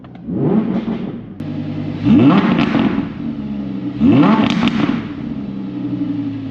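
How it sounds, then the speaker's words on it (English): An Audi R8 V10 Plus with a Valvetronic exhaust in sport mode revs several times, the exhaust rumbling loudly up close with crackling pops as each rev falls back toward idle. "Those pops and cracks are sick."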